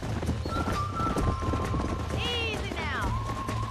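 Wild horses in the video game Red Dead Redemption galloping with steady hoofbeat clatter and several high neighs and whinnies, over continuous game background noise, with a voice speaking.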